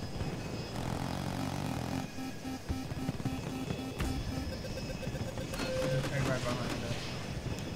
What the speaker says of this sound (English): there's a chopper here.